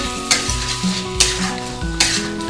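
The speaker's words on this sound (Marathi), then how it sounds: "त्यानंतर वरून थोडीशी कोथिंबीर, व्यवस्थित मिक्स करून घ्यायचे" Chicken masala with salt and a little fresh coriander sizzles loudly in a pan while it is stirred, three distinct scraping strokes landing at roughly regular intervals over a steady frying hiss; no voices.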